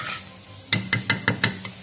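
Fried onion is stirred into bessara, a thick fava bean purée, with five quick, evenly spaced strokes of a spoon scraping and clinking against the pot over a soft background hiss.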